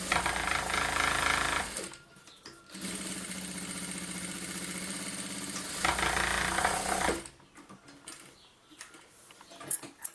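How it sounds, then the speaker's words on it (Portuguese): A sewing machine stitches a baby shoulder bag in steady, rapid runs, pausing briefly and restarting several times, loud and close with no talk. "Como segurança, eu vou costurar várias vezes para que ele não escape."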